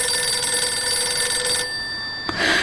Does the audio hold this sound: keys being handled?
no